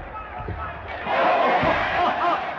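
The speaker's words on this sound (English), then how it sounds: "He's got the crowd hysterical." A boxing-match crowd shouts and roars hysterically, a dense, loud wall of voices that swells louder partway through and stays sustained.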